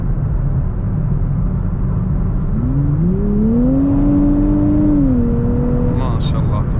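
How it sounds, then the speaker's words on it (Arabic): A 2024 Nissan Z engine drones inside the cabin while driving, its pitch climbing smoothly as it revs up, holding, then easing off, over steady road rumble; a voice speaks briefly over it. "الاوتوماتيك غير الاوتوماتيك يدخل صوت داخل السيارة، يعطيها صوت اقوى من الصوت من الجير عادي."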